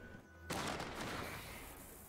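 A grenade explodes in the video game Wasteland 3. A single sudden blast is followed by a rumbling, crackling decay that fades over about two seconds. The whole sound is fairly quiet overall.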